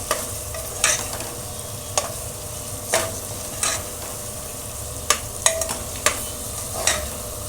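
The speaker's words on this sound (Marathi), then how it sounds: "आता हे छान परतून घ्यायचं म्हणजे ते चिकनला हे मसाले लागले पाहिजे छान" Chicken coated in ground masala sautés in a pan for Agri-style chicken, with a constant low sizzle and sharp, regularly spaced spatula scrapes about once a second, heard close with no voices.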